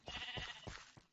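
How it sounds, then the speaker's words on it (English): Sheep bleating in Hungry World, a Minecraft-style blocky video game: several short wavering bleats in quick succession, close and fairly quiet, with no talking over them. "hear a sheep, kill a sheep"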